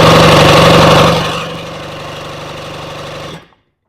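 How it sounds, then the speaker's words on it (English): A Rotax 503/582UL two-stroke engine with its spark plugs fitted cranks over loudly and close, with a fast rhythmic chugging that eases slightly after a second and then cuts off abruptly. "now let's crank the engine over"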